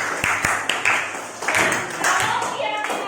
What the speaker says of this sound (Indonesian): kalau yakin kita tepuk tangan sama-sama untuk keyakinan